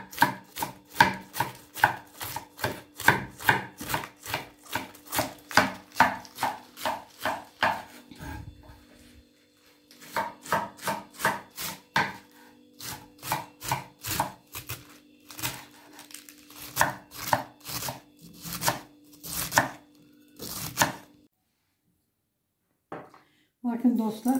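A knife chops vegetables on a board for stuffed pickles in quick, close, rhythmic bursts of crisp knocks. The runs break off into brief pauses, then resume at a steady pace.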